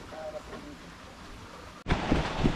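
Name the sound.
rain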